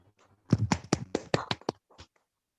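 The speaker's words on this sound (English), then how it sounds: "Give her a round of applause, please." A handful of close, sharp claps at an online club awards meeting, spaced unevenly and thinning out after about two seconds, as a few people clap alone near their microphones.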